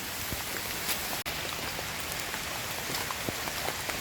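Heavy rain pours onto a mountain hiking trail on the descent from Mangu peak, a steady close hiss of countless drops with one brief dropout partway through.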